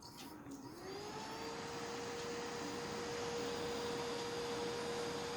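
A homemade fan driven by a hard drive motor and powered from a 12-volt controller spins up, its whine climbing into a steady, clean tone over a soft airy hiss, heard close and alone.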